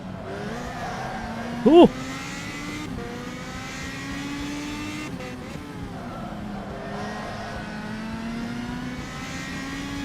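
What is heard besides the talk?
race car tyre sounds in rFactor 2 video game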